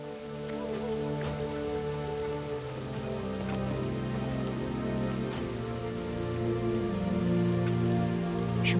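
Steady rain ambience from World of Warcraft Cataclysm Classic at the Cenarian Refuge, a continuous patter of rain on surfaces under a low droning hum, even in level throughout with occasional faint ticks.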